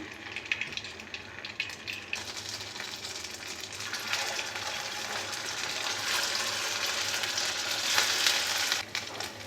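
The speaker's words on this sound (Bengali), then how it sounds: "তো তেলটা গরম হয়ে গেছে এবার মিষ্টিগুলোকে দিয়ে দেবো" Semolina sweets for suji ras malai fry in a pan of hot oil, giving a steady bubbling sizzle that swells louder toward the end, with no talking.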